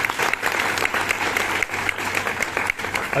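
Sustained audience applause at a celebration of a guru's 58th birthday, just after children's performances of a play and dance; dense, steady clapping fills the whole stretch without a break.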